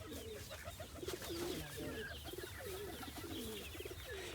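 Pigeons coo repeatedly in soft, low, rolling calls over steady background noise, several birds overlapping at moderate distance.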